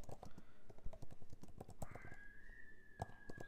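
Close, rapid keystrokes on a computer keyboard as a Linux terminal command is typed, irregular clicks and taps in quick bursts with a brief tone sounding in the background.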